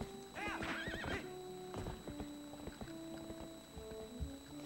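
A horse in the Zelda Twilight Princess video game whinnies loudly near the start, then its hooves gallop in quick repeated beats, with game music tones running underneath.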